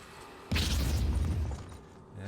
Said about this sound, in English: We're gonna do a grenade here.